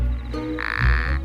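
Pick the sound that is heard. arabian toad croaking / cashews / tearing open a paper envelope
arabian toad croaking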